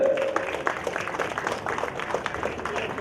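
Audience applause at a temple tower inauguration as a couple's one-lakh-rupee donation is announced, a dense spread of clapping from a crowd, steady throughout with voices mixed in.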